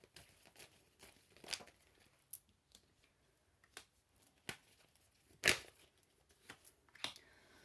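Tarot cards are handled during a reading, heard as a series of soft, quiet shuffling swishes and crisp card snaps spaced irregularly, with one sharper flick midway and no talking.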